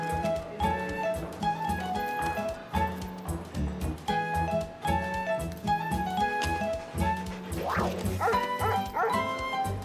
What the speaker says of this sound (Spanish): Es un perro bombero.